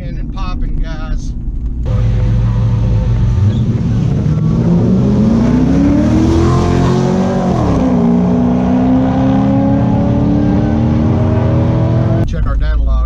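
A nitrous-fed C5 Corvette accelerates hard, its loud engine note climbing steadily and then dipping, with crackles and pops riding over the continuous close roar.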